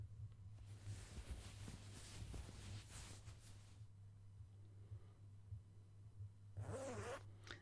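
A door in the video game A Mimicry of Life zips open with a long, crisp zipper rasp, followed after a pause by a second, shorter zip, all over a steady low background hum.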